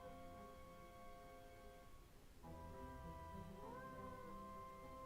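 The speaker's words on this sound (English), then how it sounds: "That cat meowing in the background is kind of annoying." Cat meowing in the Nancy Drew: Mystery of the Seven Keys game, a steady tonal cry layered over sustained background music, with a brief dip midway and a rising meow near the end.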